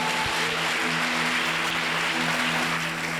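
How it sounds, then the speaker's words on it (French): A church congregation in Yopougon Niangon applauding loudly and continuously, a dense wash of clapping that fills the space evenly for several seconds with a steady low hum beneath. "On acclame fortement le Saint-Esprit."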